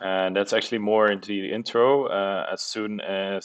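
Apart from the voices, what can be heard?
No distinct noise like a dog, phone or traffic.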